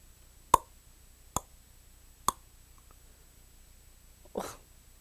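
Three sharp, separate knocks land about a second apart, faint against a quiet room, followed by a softer, more blurred thud near the end.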